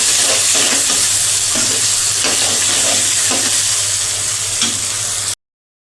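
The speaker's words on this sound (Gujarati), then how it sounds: "હવે આપણે તેને હલાવી દઈશું." Onion and tomato sabzi stirred as it fries in a pan, a loud continuous sizzle broken by rhythmic scraping strokes of the spoon, without speech.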